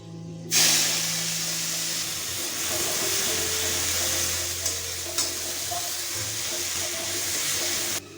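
Chopped onion goes into hot oil already used for frying fish, along with whole garam masala and dried red chillies. A sudden, loud, close sizzle starts and keeps crackling steadily for several seconds before ending abruptly.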